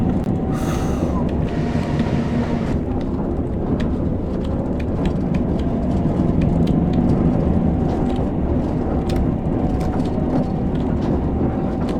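Heavy, steady rumble of a Train Sim World steam locomotive of LMS design running at full power, a continuous dense roar with faint rising tones, loud and close throughout.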